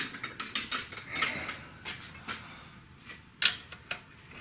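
A hand ratchet tightens a filler plug on a 2011 Kia Soul, clicking in quick short bursts of several teeth with brief pauses between strokes, close and crisp.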